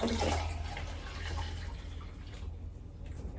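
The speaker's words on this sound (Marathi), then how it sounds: "पहिले गार पाणी मी वेगळ्या एका बाउलमध्ये घेतलं थंडगार पाणी पाहिजे" Cold tap water running into a bowl for falooda, a steady close splashing pour that is loudest at the start and thins out toward the end.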